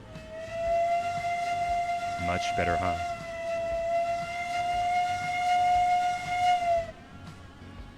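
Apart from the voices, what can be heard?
steam locomotive whistle in the video game Railroads Online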